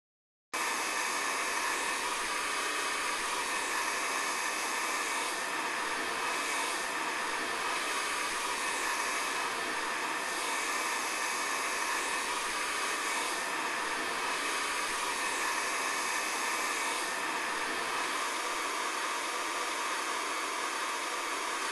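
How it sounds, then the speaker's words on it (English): A heat gun blowing hot air in a roofing VR training module, a steady loud hiss-like whoosh that runs continuously and evenly throughout, alone without any talking. "Please note that you must never change the nozzles while the heat gun is turned on or still hot."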